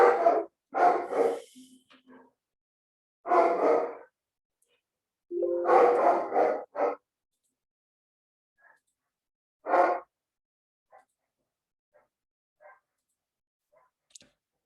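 A neighbours' dog barks outside in a yard, several loud, sharp barks in separate bursts with pauses between, followed by fainter scattered yips and clicks.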